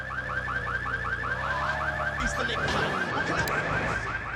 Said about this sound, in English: Why does this car always have to have the alarm?